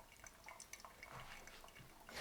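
Filter coffee brewed at a 1:15 ratio finishes dripping through the paper, faint close drips and small liquid splashes scattered irregularly, with a brief louder rush at the end.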